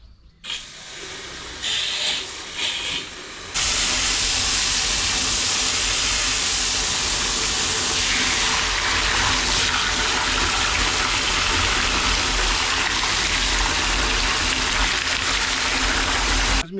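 Water runs hard into a bucket while fungicide is mixed in: a brief quieter start, then a loud, steady, hissing gush that continues to the end.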